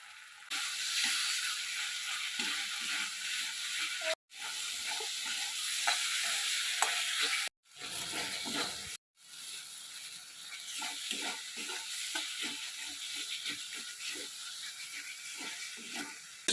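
Pointed gourd fries with cumin powder in a hot pan, giving a continuous crackling sizzle broken by brief cuts, as a spatula stirs with quick scraping and clicking strokes close by.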